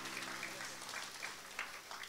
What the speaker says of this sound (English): Round of applause for Micah, please.